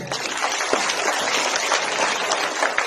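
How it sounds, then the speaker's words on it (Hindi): Audience clapping at a political rally, a dense broadband patter of many hands sustained steadily throughout, fairly loud with faint talk mixed in. "ताली तो बजानी है"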